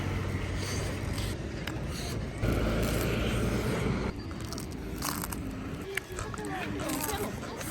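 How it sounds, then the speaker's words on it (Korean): Someone bites and chews a fish-shaped bungeoppang pastry in a busy outdoor setting, soft crunching under steady background noise and nearby talk. "붕어빵 먹으려고요"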